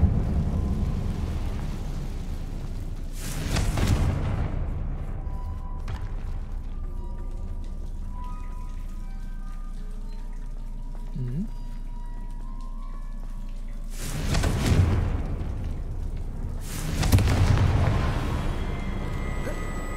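Confringo fire spell blasts in Hogwarts Legacy: a few loud, booming explosive bursts spaced several seconds apart, with quieter rumbling ambience and faint game sounds between them.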